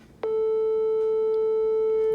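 A steady pure sine-wave reference tone from a piano tuning app starts abruptly and holds unbroken at an even level, loud and clean, with no voices.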